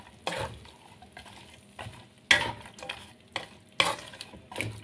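Bean sprouts stirred in a wok, with several bursts of scraping and tossing separated by short pauses over a soft sizzle, close and moderately loud.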